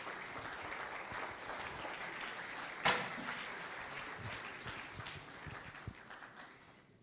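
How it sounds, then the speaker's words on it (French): Audience applause at an architecture conference, a steady wash of clapping from a sizable crowd that carries through the whole stretch with little change in level. "Je voudrais qu'on l'applaudisse."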